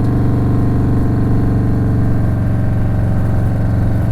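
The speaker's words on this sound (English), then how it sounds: "This bike sounds good." A Stage II Harley-Davidson Softail Street Bob engine drones loudly and steadily while cruising, a deep, even, throbbing rumble that holds constant throughout, with no talk over it.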